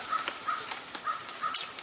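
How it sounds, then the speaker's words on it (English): Crows caw repeatedly in a Middle Tennessee yard on a quiet evening, a series of short, harsh calls spaced across a few seconds, moderately distant and clear with no talking over them. "Crows, as always. Man, I like them crows."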